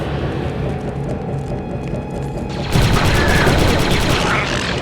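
Gunfire in the Star Wars Republic Commando video game, a loud sustained burst of rapid automatic shots breaking in midway over a rumbling battle background.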